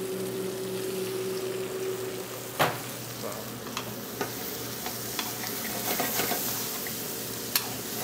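Corn sizzles and fries steadily in a hot pan, a continuous close crackle broken by several sharp clicks and scrapes of stirring.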